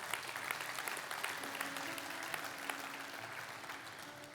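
A church congregation applauds together at a Sunday service, a continuous wash of clapping that stays fairly even and slowly fades, heard quietly from some distance.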